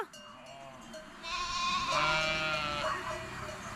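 Rams bleat close by in drawn-out, wavering calls, a couple overlapping, loud against quiet outdoor background.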